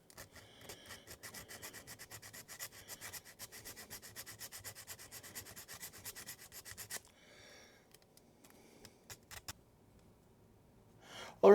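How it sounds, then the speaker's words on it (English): A sanding stick works over a plastic model part of a U.S.S. Reliant kit in rapid, regular back-and-forth rubbing strokes, close and crisp, then pauses, followed by a few scattered scrapes and a brief louder knock at the end. "So I will take a sanding stick."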